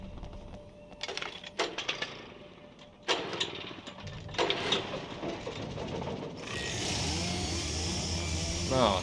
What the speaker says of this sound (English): I needed to get the generator running.